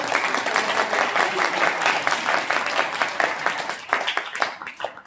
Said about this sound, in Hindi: मैं चाहता हूं अपने सम्मान में एक बार आप सब तालियां बजाइए।